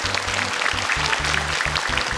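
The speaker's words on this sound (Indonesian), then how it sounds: "Tepuk tangan dong untuk Azka" Studio audience applauding steadily for a young contestant on the Hafiz Indonesia Quran memorization show, a dense wash of clapping with a low musical bed running beneath.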